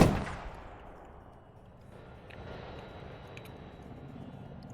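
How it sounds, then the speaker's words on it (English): A Gorgon unit fires defensively in a strategy video game: one heavy blast opens, then a long rumbling decay with scattered distant pops and a low continuous drone. "that Gorgon is now firing for defense"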